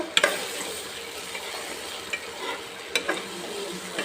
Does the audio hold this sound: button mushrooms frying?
yes